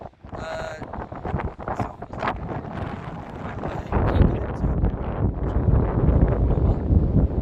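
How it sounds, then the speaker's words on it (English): Strong wind buffets the microphone outdoors on a freezing day, gusting in uneven, loud low rumbles that swell stronger toward the end, with some rustling and a brief tonal sound early on. "It is very windy"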